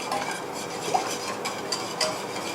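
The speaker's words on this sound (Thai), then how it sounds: "คนให้แผ่นเจลาตินของเราละลายนะคะ" Gelatin sheets are stirred in a pot until they melt, a soft steady scraping with a few light clinks of the utensil against the pot, faint and close, with no talking.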